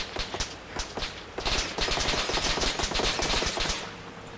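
Rapid bursts of gunfire from Russian forces crackle in ArmA 3 at the Stratis checkpoint, a dense, fast string of sharp shots overlapping at close range with no pauses.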